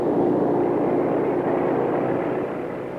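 Japanese carrier aircraft launching for the Pearl Harbor attack, their propeller engines giving a loud, steady, broadband roar that holds for the whole stretch and eases off slightly near the end.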